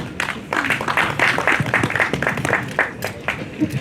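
At a programme closure event, a modest group of people clap for a guest. The claps are fairly close and individually distinct and keep an uneven rhythm, with a few voices mixed in.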